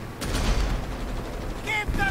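An 88 mm cannon fires in the World War II strategy game Company of Heroes 3, a loud heavy blast over dense rumbling battle noise with shorter sharp reports near the end.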